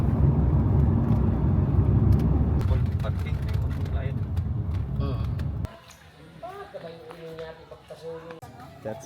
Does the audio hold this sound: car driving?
yes